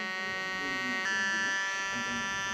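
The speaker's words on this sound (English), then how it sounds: "when the vacuum pump finished, it will turn from red to green" A vacuum pump draws air out of an underwater phone housing, giving a steady, high-pitched electric whine with a dense stack of tones that holds continuously and close, with a brief click partway through.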